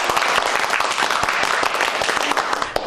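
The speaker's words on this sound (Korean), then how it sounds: "축하하는 의미에서 우리 박수." Coworkers in a restaurant kitchen clap together to welcome two new staff members, a short, dense burst of close applause from a small group that holds steady and loud throughout.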